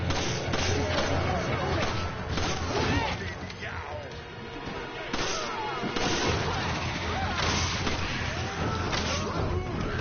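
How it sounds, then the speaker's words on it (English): Gatling gun firing in Resident Evil 5: dense, continuous bursts of heavy rapid gunfire with booming impacts, loud and close, running across the whole stretch with only brief dips. "I just want to use the Gatling guns"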